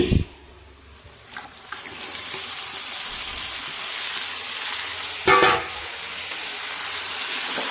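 Local meat hits a pan of frying chili, ginger, garlic and softened onions, setting off a steady, close sizzle with a brief clatter of stirring partway through.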